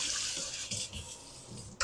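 Brief rush of running tap water as a utensil is rinsed at a kitchen sink during cooking, steady splashing for a moment, then a sharp clatter near the end.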